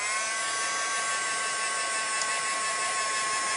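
Electric heat tool blowing hot air over sticky embossing powder in a craft setting, a steady loud buzzing whir held continuously with no pauses, with no talk over it.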